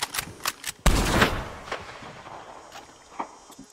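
Litchfield repeater rifle shots in Red Dead Redemption 2: a few quiet clicks, then one loud, close crack with a long echoing tail, followed by faint scattered ticks and a softer later report.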